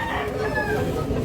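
A rooster crows at the Carbon market in Cebu, where fowl are sold, a drawn-out wavering call that sits close and fairly loud amid a murmur of crowd noise.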